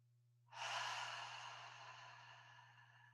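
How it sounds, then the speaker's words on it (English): A single slow, close breath, drawn in through the nose and let out through the mouth, that starts suddenly, then fades gradually into a soft, airy exhale during a calming breathing exercise. "You can breathe in through your nose and then exhale through your mouth."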